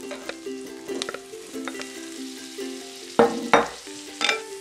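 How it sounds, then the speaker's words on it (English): Mushrooms frying in garlic butter with fresh thyme give a steady close sizzle, broken by stirring clatters and spoon-on-pan knocks, with louder scraping bursts near the end. "Now in with our mushrooms."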